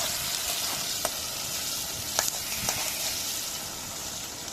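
Onion and green chilli fry in a pan, a steady, dense sizzle that runs unbroken throughout, with a few faint clicks of a spoon stirring, close and fairly loud with no voices.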